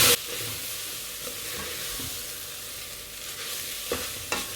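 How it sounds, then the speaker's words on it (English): Minced beef being stirred and fried in its own oil in a pot for dirty rice, with a steady sizzle and a few scraping stirs near the end, no voices. "I'm going to just stir this very well. I'll use the oil from the beef, and I'm going to fry that with it"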